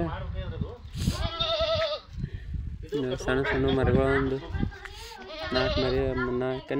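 Sheep bleat repeatedly on a farm, their wavering cries close and fairly loud, mixed with someone talking over them.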